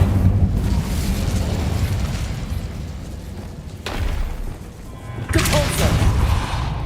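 A fire spell cast in Hogwarts Legacy, heard as two sudden whooshing bursts of flame over a steady rumbling game background, each blast loud and close.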